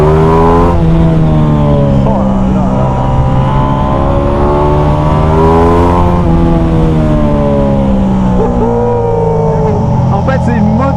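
A loud Ducati XDiavel Black Star motorcycle engine revs continuously beside a low wall, its pitch rising and falling through gear changes, while a man exclaims over it.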